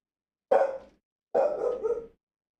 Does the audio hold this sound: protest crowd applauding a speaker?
no